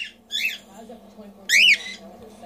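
Two loud, sharp squawks from a pet cockatiel, one short and one longer about a second later, rising above a steady low hum and faint background murmur.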